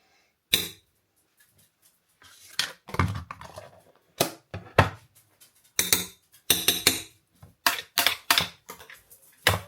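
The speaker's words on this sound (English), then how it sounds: "I'm going to use my potato masher and mash those." Cooked potatoes are mashed by hand with a potato masher, a series of irregular sharp knocks and thumps with short pauses between them, close and fairly loud.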